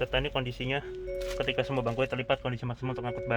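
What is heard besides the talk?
None of the usual background noises is heard.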